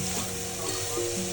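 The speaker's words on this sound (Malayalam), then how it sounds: "ഇതൊന്ന് ചെറുതായി മൂത്ത് വരുമ്പോൾ നമുക്ക് സവാള ആഡ് ചെയ്യാം." A ground paste of ginger, garlic and chili sizzles in hot oil in a pan, a steady close frying hiss that is fairly quiet and heard alone, without talk.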